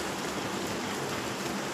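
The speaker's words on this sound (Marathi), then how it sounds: "पाऊस पण चालूच आहे" Rain falls outside as a steady, moderately loud broadband hiss, brief and continuous with no talking.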